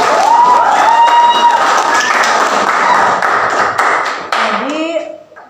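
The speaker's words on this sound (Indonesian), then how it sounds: "Oke, tepuk tangan." Students in a classroom clap together at a teacher's prompt, a dense round of applause with scattered voices and squeaks that tapers off near the end.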